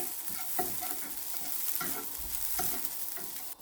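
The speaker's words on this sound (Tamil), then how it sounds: "இப்போ தேங்காயை சேர்க்குறேன். சேர்த்து அதையும் வறுப்போம்." Grated coconut stirred and roasted in a pan for crab curry, a steady soft sizzle broken by repeated scraping strokes of a spoon against the pan, close and with no voices.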